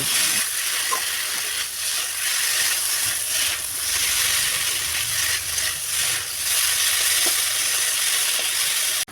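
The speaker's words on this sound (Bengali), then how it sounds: "গ্যাসের আঁচটা লোতে রেখে ভালো করে সময় ধরে ভাজতে হবে" Boiled taro stolons fry slowly in a pan over a low gas flame, giving a constant soft sizzle and hiss with faint stirring scrapes, close and steady throughout.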